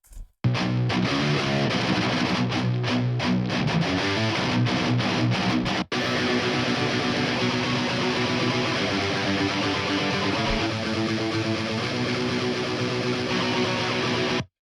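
Four layered tracks of thick, heavily distorted electric guitars play a dense, loud riff with choppy stops early on, then settle into sustained chugging chords.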